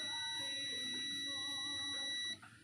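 A multimeter's continuity buzzer sounds while its probes are shorted on a Vivo Y91 phone motherboard: a steady high electronic tone held for over two seconds, then cutting off abruptly.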